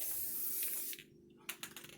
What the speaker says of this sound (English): spray it on your paint stick and do it that way first